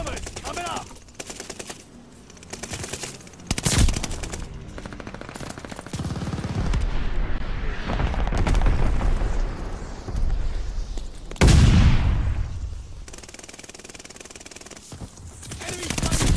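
Rapid bursts of automatic gunfire crackle across a chaotic Call of Duty: Vanguard soundscape, with loud booms and impacts breaking through a constant rumble of battle.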